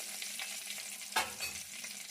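Tempering spices crackling and frying in hot oil for an old-style raw tamarind dish, a steady close sizzle with a brief sharper pop partway through and no voices.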